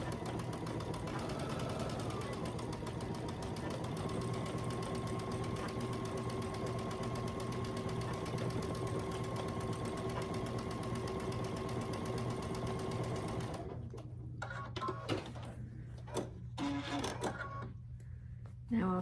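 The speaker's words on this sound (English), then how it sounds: "So we'll stitch this whole long line." A sewing machine runs steadily for about thirteen seconds, stitching one long seam across a quilt block with a continuous whirring hum, then stops and is followed by quieter handling noises.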